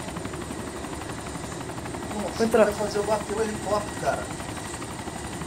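A helicopter in the video game DayZ drones steadily throughout with a constant rotor hum, while excited players shout over it in the middle.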